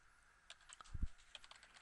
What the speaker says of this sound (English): my typing will end up right beside the picture